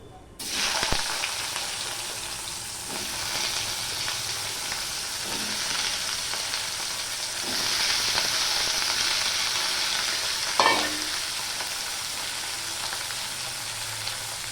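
Potatoes with ripe and green chillies fry in a pan, a steady loud sizzle with occasional scraping stirs and a few spoon knocks against the pan.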